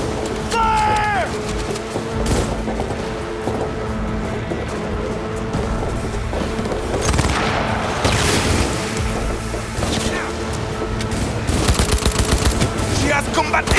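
Gunfire in the Cyberpunk 2077 video game, loud rapid automatic bursts and single shots rattling without pause, with booming impacts and a tense music bed underneath throughout.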